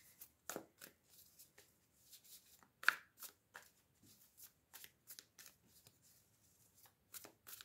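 Oracle cards being shuffled and drawn, a run of quick crisp riffling flicks and snaps at close range, mostly alone with soft gaps between bursts.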